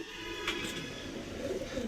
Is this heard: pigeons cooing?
yes